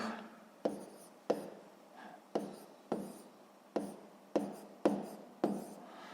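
Pen scratching on paper while numbers are written out for a sixth-grade math exercise, in a run of short, evenly spaced strokes, each a crisp scrape that fades quickly, close and fairly quiet with no talk.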